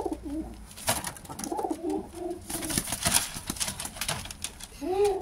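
A pigeon being fed coos repeatedly in soft rolling calls, close by, mixed with tapping and pecking clicks and a light rustle.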